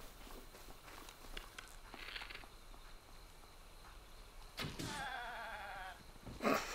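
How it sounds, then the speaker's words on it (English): Goats bleating in the video game Breath of the Wild, a quavering bleat rising near the end after quiet rustling steps, then another brief bleat starting, fairly faint overall. "Hey, that sound. Such a weird sound. Sorry, goat."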